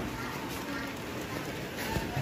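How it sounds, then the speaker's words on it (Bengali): Rain falls steadily as a dense, continuous hiss of drops, recorded close by and fairly soft. A faint voice may sit in the background. "দেখুন বৃষ্টি পড়ছে কিরকম"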